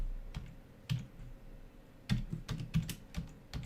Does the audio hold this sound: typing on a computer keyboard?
yes